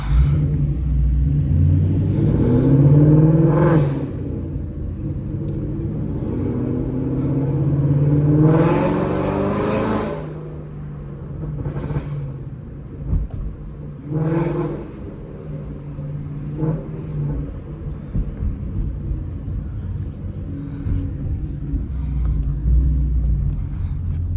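A straight-piped 5.0 Mustang V8 rumbles and revs while driving through downtown Venice, heard from inside the car, with loud surging pulls near the start and middle and a lower idle rumble between them.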